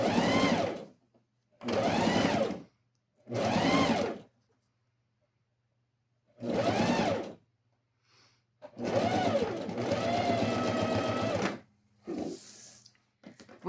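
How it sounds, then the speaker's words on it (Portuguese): A sewing machine, run by foot pedal, stitches a beginner's safety seam on a box-style fabric pouch in several bursts of whirring, three short runs, a pause, then a longer steady run and a brief final burst. "Deixa eu arrumar meu pedal aqui. E vamos fazer a nossa primeira costura."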